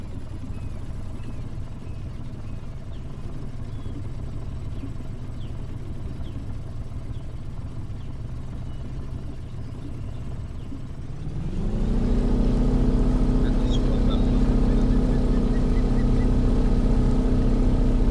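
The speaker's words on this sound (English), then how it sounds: "Let's start the engine." An outboard motorboat engine in the Fishing Planet fishing game, on the Mississippi waterway near Blue Crab Island, idles low and steady, then starts up and kicks into a louder, sustained drone that holds to the end.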